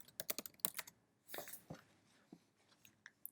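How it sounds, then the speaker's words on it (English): Fingers type on a computer keyboard, starting with a quick run of close, crisp key clicks and then a few sparser, quieter taps. "all we do is type in NYC Flights"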